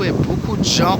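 Strong outdoor wind buffeting the microphone, a loud continuous low rumble under someone speaking French throughout.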